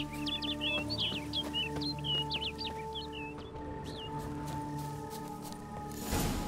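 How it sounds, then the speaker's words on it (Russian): Rapid, bright twittering from a small bird in a woodland area of The Witcher 3: Blood and Wine fills the first few seconds, then gives way to a soft sustained ambient drone of game music. "Эта птичка меня ждет в любом случае, она куда-то ведет."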